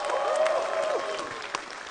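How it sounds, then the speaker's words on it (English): Audience applause rises at the Tenet movie premiere in China, moderate crowd clapping heard beneath a voice that rings out over it. "please give the biggest round of applause to our writer, director, and producer of Tenet"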